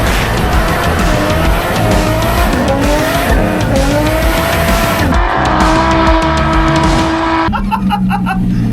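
A Toyota Verossa-based NASCAR-style car drifting, engine droning loud and close while tires squeal in long wavering howls that rise and settle, continuous throughout with a shift in pitch near the end.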